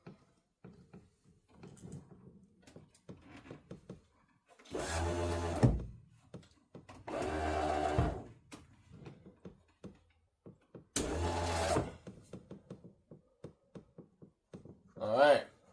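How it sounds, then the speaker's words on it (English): An electric pump draws transmission fluid during convertible top repair on a 1971 Mercury Cougar, running in three short whirring bursts with a brief fourth at the end, separated by quiet stretches of faint handling noises. "It looks like it sucked up a lot of that transmission fluid."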